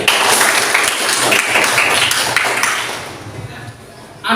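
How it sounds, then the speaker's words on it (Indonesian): A classroom full of pupils clapping during an elementary school teaching demonstration, a dense, loud burst of applause that fills most of the clip before thinning out toward the end. "Tepuk tangan dulu, Indra."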